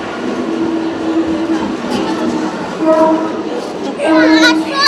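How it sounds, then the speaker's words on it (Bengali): A train rumbles steadily on the way to the Sundarbans, with clattering wheels and brief whistle-like tones, while people talk over it throughout. "ও এখন ট্রেন গাড়ির পাল্লায় পড়েছে।"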